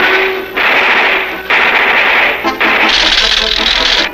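Cartoon machine-gun fire in bursts, loud continuous rattling volleys with brief gaps, from a classic Underdog animated episode about a gold robbery.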